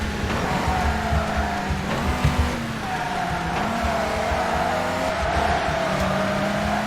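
A race car in the video game TOCA Race Driver 3, a 1960s GT car, braking hard: close, loud engine tone dropping in pitch with tire squeal and skidding, steady throughout.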